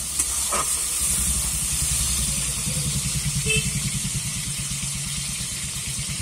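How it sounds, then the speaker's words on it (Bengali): Steady sizzling hiss of tomato frying in a pan, continuous and close, with faint stirring clicks and no talking. "টমেটোটা আমি একটু ভাজা ভাজা করে নেব।"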